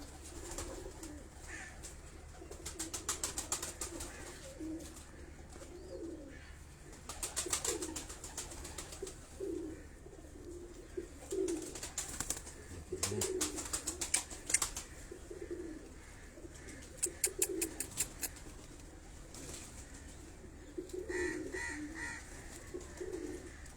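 Pigeons kept by Karachi breeders give repeated rolling coos in regular phrases, mixed with several short bursts of quick rattling clatter, against a faint continuous hum.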